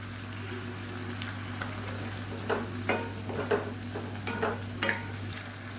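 Tomatoes with salt sauté in a pan for an idli and dosa side dish, a soft steady sizzle with several scraping stir strokes in the second half, over a constant low hum.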